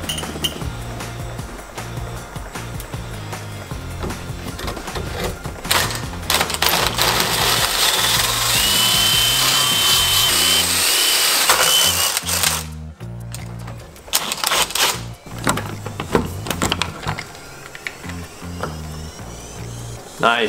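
A drill spins a hole saw boring through a wooden door, a loud grinding, rattling churn that surges and stalls in bursts, with brief pauses and clinking between runs.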